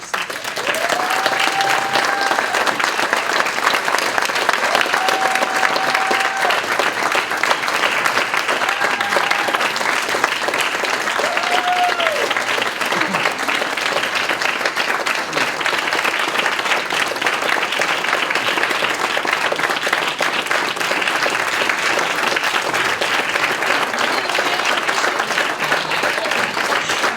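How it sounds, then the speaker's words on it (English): A large audience applauds at an Occupy movement event in California, sustained steady clapping that holds loud and even for the whole stretch, with faint tonal feedback whistles early on. "Please give them a round of applause as they take their seats."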